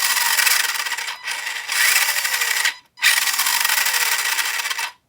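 Motor of a 1981 Tamiya Ranger F150 XLT RC truck revving on throttle, a loud close whirring buzz in three bursts with brief pauses and slight pitch sweeps, no talking.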